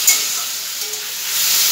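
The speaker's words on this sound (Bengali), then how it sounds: "চিকেনটাকে আগে এরকম করে ভেজে নিই।" Chicken pieces fry in a pan with a continuous loud sizzle and hiss close up, plus a few faint stirring knocks and no talking.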